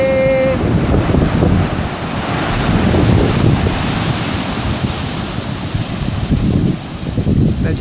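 Loud, constant roar of waves and surf on a beach at Reunion Island, with heavy wind buffeting the microphone and a brief tonal note at the very start.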